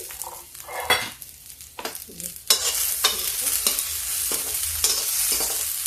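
Peas dropped into a hot pan with ginger over high heat for a cabbage and pea dry sabzi, bursting into loud sizzling after a few clinks and stirs, then a steady close frying hiss with spoon scrapes.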